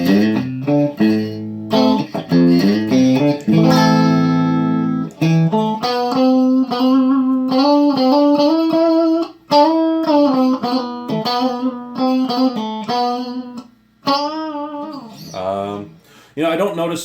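An electric guitar fitted with EMG DG20 pickups, selector in position 2, plays a clean, sustained run of single notes and chords, loud and close, with brief pauses and no talking.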